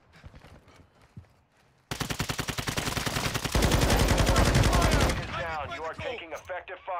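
Rapid automatic gunfire in a film or video game erupts after a quiet start, a sustained loud burst of rattling shots that swells heavier midway, then gives way to scattered tones and noise.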